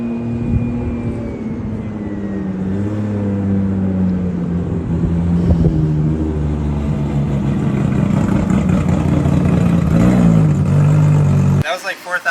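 Toyota Supra engine with a rolling anti-lag setup, revved to about 4,000 RPM and held steady and loud throughout, with pitch rising and falling slightly, before cutting off abruptly at the very end.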